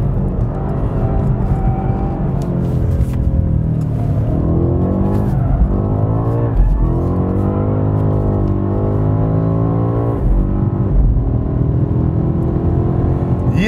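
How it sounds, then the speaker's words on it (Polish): A BMW M8 engine while driving, a deep throaty drone that rises and falls through the gears with rising revs and shifts, loud and close throughout with no talking. "Do brzmienia tego silnika."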